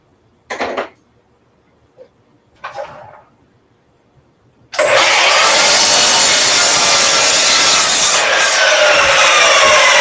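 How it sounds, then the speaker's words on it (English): A miter saw slices through pallet wood for a scrap-wood garden bench, loud and close, the blade whine and cutting roar running steadily for about five seconds after a few faint handling knocks. "miter saw, watch your ears."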